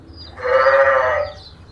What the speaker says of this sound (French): Voici les moutons.